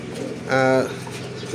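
Racing pigeons coo at their loft, a single short rounded call sounding near and moderately loud over a low background of voices and ambient noise.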